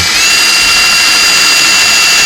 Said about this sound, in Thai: 18หลุมก็คือเจาะลงไปที่กระเบื้องก่อน เพื่อนำทาง